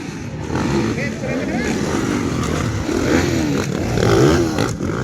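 Kawasaki and Yamaha racing motorcycles battle closely, their engines buzzing and revving in waves that swell toward the end, with a commentator talking over them throughout.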